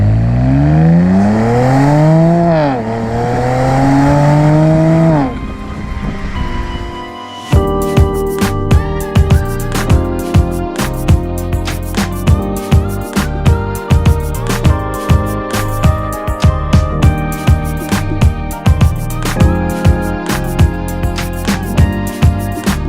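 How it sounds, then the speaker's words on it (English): A 2007 BMW 335i Touring's engine revs up through rising gear sweeps, then drops away, followed by a dense, loud stretch of rhythmic mechanical and tonal sound with repeated sharp transients. "Okay, driving the BMW 335i"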